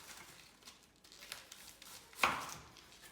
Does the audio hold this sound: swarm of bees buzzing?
no